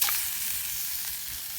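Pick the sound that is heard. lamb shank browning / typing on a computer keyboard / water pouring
lamb shank browning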